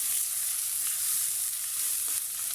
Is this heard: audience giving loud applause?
no